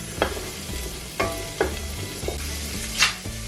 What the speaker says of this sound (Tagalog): Saute until softens.